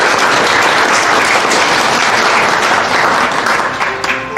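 Loud, sustained applause from a large audience at a health charity campaign event, dense steady clapping filling the whole stretch and thinning slightly near the end.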